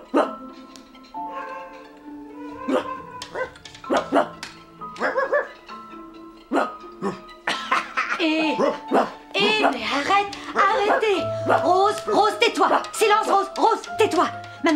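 A woman imitates a dog, giving a string of yapping barks and whimpers that grow denser and louder, with another voice joining low in places.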